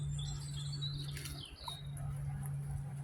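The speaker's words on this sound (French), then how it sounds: "moi je vais prendre le temps d'écouter les oiseaux chanter" Birds chirp outdoors near beehives, light scattered tweets fairly faint over a steady low hum from the hive setting, with no talk.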